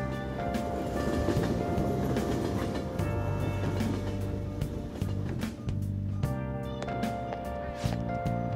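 Train ride in the Persona 5 Royal video game: a continuous rumbling carriage drone with rhythmic clicks and clacks of the rails over background game music.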